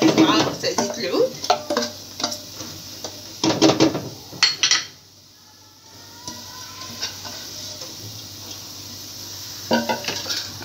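Chopped leeks sautéing in a spoonful of olive oil in a pan for a healthy vegetable soup, with stirring and utensil clatter in bursts, a soft sizzle during a quieter pause, then more stirring near the end.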